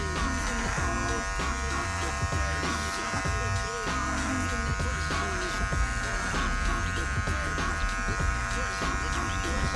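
Electric hair clippers with a 1.5 guard and the taper lever fully closed run steadily through hair on the sides of a head during a sponge-twist haircut, a continuous close buzz with faint talk underneath.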